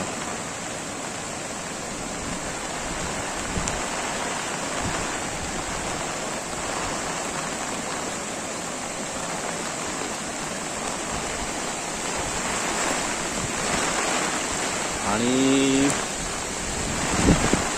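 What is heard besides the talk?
fast-flowing river water at a bridge in monsoon rain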